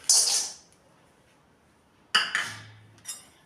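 Small hard cinnamon pieces clatter into a metal wok in a few quick bursts, sharp clinks close by, separated by a short quiet stretch.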